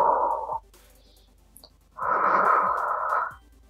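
During a Pilates exercise, two forceful breaths are blown out through the mouth, each a loud airy rush. The first is short and the second lasts longer, with a quiet pause and a faint click between them.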